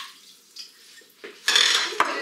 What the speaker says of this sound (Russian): Воду я сливаю.